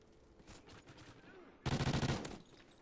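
A rapid burst of automatic gunfire in Call of Duty, loud, fast, evenly spaced shots lasting about a second after quieter distant firing, with a voice briefly heard.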